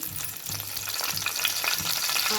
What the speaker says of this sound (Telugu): ఇప్పుడు ఇందులో ఒక 3 యాలకులు, 2 బిర్యానీ ఆకులు